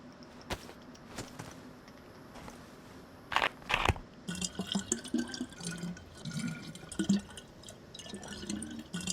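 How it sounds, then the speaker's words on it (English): A container being filled with water in the survival video game DayZ, with soft trickling and splashing, a few clunks and sloshes of the vessel, faint and close with no talking. "Fill this up with water."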